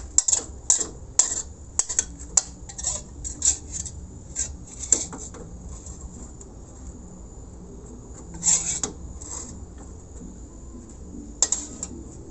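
Metal utensil scraping and clinking against a pan while stir-fried shrimp in oyster sauce is scooped out, a run of short rasping scrapes and taps with quieter gaps between them.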